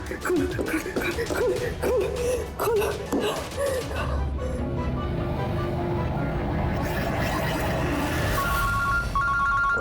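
A telephone rings in a scene from the Indian TV crime drama CID, a short electronic ringtone rising near the end after a stretch of voices and dramatic background music.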